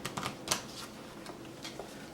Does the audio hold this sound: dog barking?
no